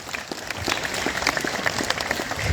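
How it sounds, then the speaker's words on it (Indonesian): A school audience applauds at a junior high orientation event in Tangerang, a dense wash of many hands clapping steadily and fairly loudly from the crowd, swelling slightly toward the end with no talk over it. "Tepuk tangan yang meriah."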